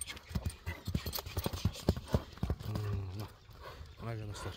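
A trained stallion's hooves clip-clop as it walks in a close series of sharp, uneven beats. Voices talk over the later part.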